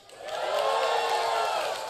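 An audience in a church hall cheers together, a loud swell of shouts and whoops that rises quickly, holds for about a second and a half, then begins to fade.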